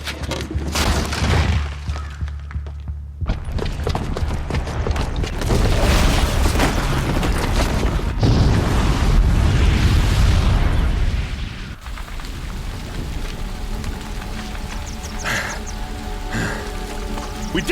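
A booby-trapped bomb going off in Horizon Zero Dawn, a sustained roaring blast with heavy rumble and crackling debris that swells loud and then settles into a lingering rattling, ringing aftermath.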